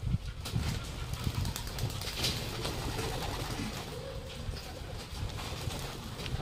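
Pigeons flying out of a loft, wings flapping and birds cooing, a steady busy mass of bird sound with faint soft coos.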